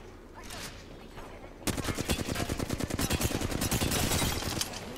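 Rapid automatic gunfire from the Apex Legends battle royale video game, starting abruptly after a quieter stretch and continuing as a dense, loud burst of rapid shots that runs to the end.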